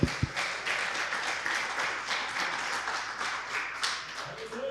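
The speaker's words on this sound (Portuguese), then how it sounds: "Aplauda o Senhor por isso, amém?" A church congregation applauds together in a dense, continuous wash of many hands, steady and moderately loud from start to finish, with no voices rising above it.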